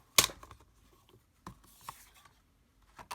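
A paper card is trimmed smaller by hand while making an encouragement card, giving a sharp close snip or slice followed by a few fainter scattered taps and rustles.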